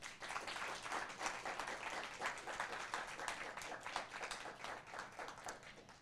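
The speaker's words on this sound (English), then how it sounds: "Let's have a huge round of applause for all of our speakers." Sustained audience applause after the speakers at a TEDx event, a dense steady wash of many hands clapping throughout, no voices heard.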